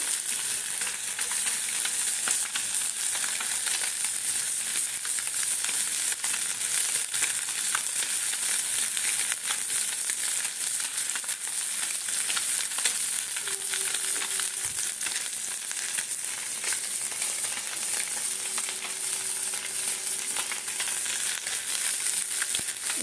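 Half-fried amodi fish sizzles steadily in hot oil in a pan, a dense, continuous hiss that holds throughout with no talking.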